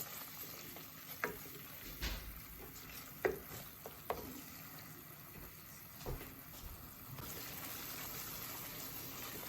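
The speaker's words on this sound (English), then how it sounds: "you need to make sure you cook that curry paste well" Curry paste for chicken satay frying in a pan, a steady close sizzle with occasional scraping stirs and faint clinks throughout.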